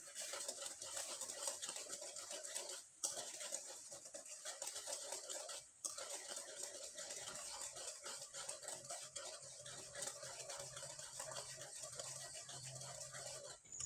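Sugar caramel is stirred in a pan with a continuous faint scraping and gentle bubbling, steady throughout, with a couple of brief pauses and no voices.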